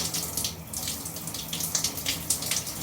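Shower water runs close and steady, a dense, hissing splash that continues without a break.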